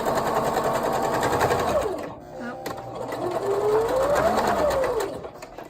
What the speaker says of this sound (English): I'm going to run the sewing machine along it